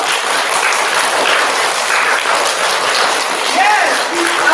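A room of third-grade students breaks into loud, sustained applause, dense steady clapping with a few high whoops and voices rising near the end.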